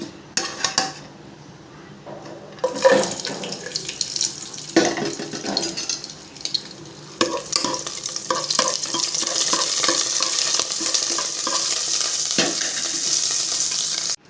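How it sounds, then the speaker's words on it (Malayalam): Cashews and raisins fry in hot ghee, giving a steady crackling sizzle broken by metal stirring and spoon clinks against the pan, with no voices. "അണ്ടിപ്പരിപ്പ് മുന്തിരി നമുക്ക് നെയ്യിൽ വറുത്ത് പോരാം"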